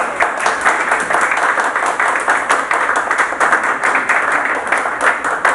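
An audience applauds a guest speaker at a talk, sustained dense clapping from many hands filling the room at a steady level throughout, with no voices over it.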